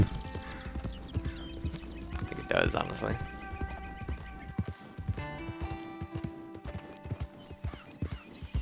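Horse hooves clip-clop in Red Dead Redemption 2, a steady walking rhythm of sharp close hoof strikes with a brief whinny early on, while a player talks over the game audio.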